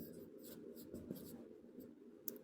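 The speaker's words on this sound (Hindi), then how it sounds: "तो हम लिखेंगे" Pen writing on paper during a tense grammar lesson, a faint, close scratching with small taps and strokes in an irregular rhythm, heard alone without speech.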